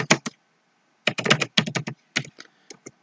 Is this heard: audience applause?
no